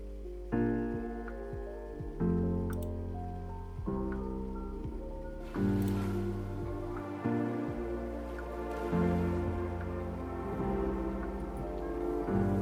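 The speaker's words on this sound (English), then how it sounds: "this is the closed grand piano" Closed grand piano playing chords in a future bass remake, sustained notes with clear changes every couple of seconds, soft and solo.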